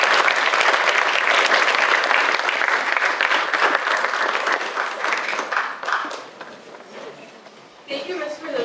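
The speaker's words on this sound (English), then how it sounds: "So congratulations, round of applause for all of you." An audience at a high school service learning presentation claps in a loud round of applause that gradually thins and fades, with voices surfacing near the end.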